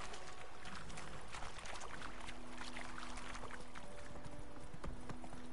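A horse's hooves clip-clop at a steady walking pace along a path in The Witcher 3, moderately close and even, with faint ambient game sounds behind.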